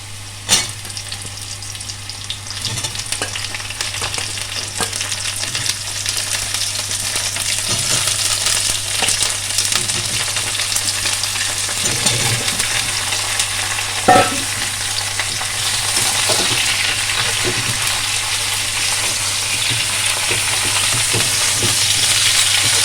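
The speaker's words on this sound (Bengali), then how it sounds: "এবার আমি বেগুনগুলো দিয়ে দিচ্ছি।" Eggplant pieces fry in hot oil with a loud, steady sizzle that swells over time, dotted with the knocks and scrapes of stirring; no one speaks.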